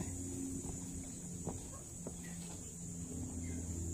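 Faint scattered clucks from a hen and chickens pecking at food over a steady low hum and background noise.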